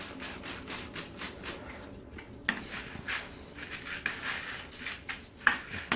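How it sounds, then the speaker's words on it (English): Wet, conditioned brewing grain is stirred in a vessel for all-grain home brewing, giving soft irregular scraping and clinking taps at close range, fairly quiet, with no talk. "I'll just give it a good stir."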